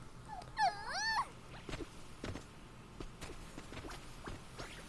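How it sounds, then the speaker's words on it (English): Dogs in Dragon Quest Builders 2 give a bright whining yelp early on, followed by scattered soft paw steps and small thuds across a quiet game ambience. "Look at all my dogs."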